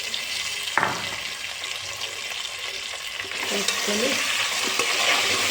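Potato pieces with turmeric frying in a pan, a close, continuous sizzle with stirring scrapes and a sharp clatter early on, the hiss swelling louder toward the end while a voice speaks briefly.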